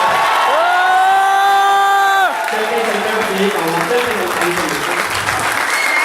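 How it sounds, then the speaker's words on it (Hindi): Loud applause with cheers and whoops from a convention audience in Ghaziabad, opening under a sustained harmonic tone, then continuing as a big, steady wash of clapping and crowd noise. "आप एक बार जोरदार तालियां बजाइए"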